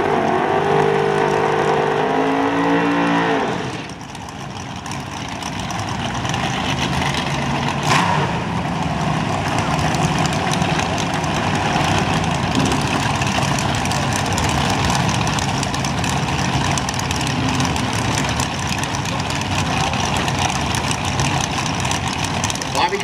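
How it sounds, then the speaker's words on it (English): A front-engine dragster at Auto Club Raceway in Pomona, its loud racing engine droning and roaring steadily over a long stretch after a brief dip, with a dense mechanical rumble and a commentator talking over it. "Bobby Cottrell, the front engine dragster,"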